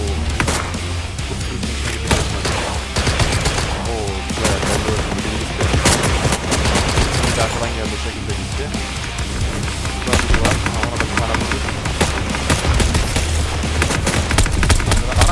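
Gunfire in the video game Star Atlas, a dense, loud stream of rapid shots and bursts with occasional heavier booms, continuous throughout, with faint voices mixed underneath.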